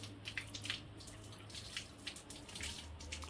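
Water runs steadily from an outdoor pipe at an outdoor Jamaican-style cooking setup for washing hands, a continuous close splashing flow with small irregular spatters throughout.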